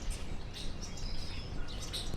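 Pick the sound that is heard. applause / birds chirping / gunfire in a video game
birds chirping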